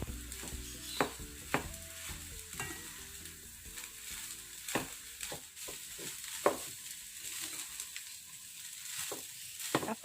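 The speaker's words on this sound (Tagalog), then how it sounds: "Tapos ay ilagay na natin ang cooked rice o ang lutong kanin." Cooked rice frying in a pan for Filipino sinangag, a soft steady sizzle with scraping and stirring taps of a utensil scattered throughout, fairly quiet and close.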